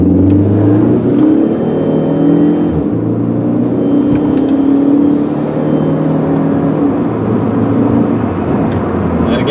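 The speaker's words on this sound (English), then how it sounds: "I'll accelerate pretty good, and I have it in regular automatic transmission, so you can see how she shifts." A 2004 Chrysler PT Cruiser GT with automatic transmission accelerates hard, its engine droning loud and steady, rising in pitch through the gears with brief dips at each shift, plus road and wind noise throughout.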